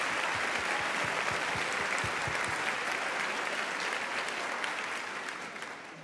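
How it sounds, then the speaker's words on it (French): Audience applause after a virtual fashion show, a large room of steady dense clapping, fairly distant and even throughout before slowly thinning at the end. "je voudrais aussi qu'on applaudisse bien sûr toutes les équipes derrière eux"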